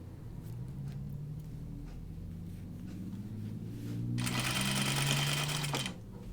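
Sewing machine running on a scrap of fabric: a low motor hum with rising and falling whine, then a loud, close burst of fast stitching lasting under two seconds before it stops.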